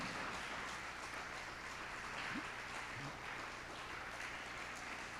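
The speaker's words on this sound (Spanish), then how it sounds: "denle un aplauso al Señor" Faint, distant clapping from a church congregation during a Spanish-language sermon, a soft continuous patter over a low hum with a couple of brief tonal blips.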